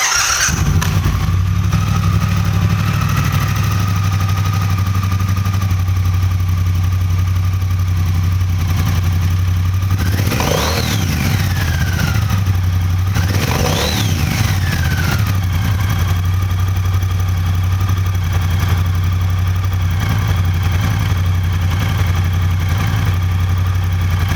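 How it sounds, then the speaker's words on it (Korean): A large water-cooled Triumph Bonneville T120 motorcycle engine with stock muffler fires up and settles into a deep, steady idle, broken by two quick throttle revs that rise and fall. "자, 시동을 켜보겠습니다."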